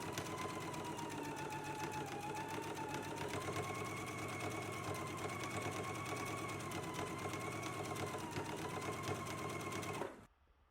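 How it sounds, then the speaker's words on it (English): A sewing machine runs steadily, stitching a 5/8 inch seam on a McCall's M8509 garment piece. The motor hum holds continuous and close for about ten seconds, then stops abruptly. "we can go ahead and stitch in a 5/8 of an inch seam allowance"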